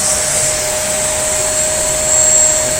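Shark NV22 upright vacuum cleaner running with its filters and cyclone removed, a loud, steady, close-up rushing whine of airflow with a constant tone and no break or voices.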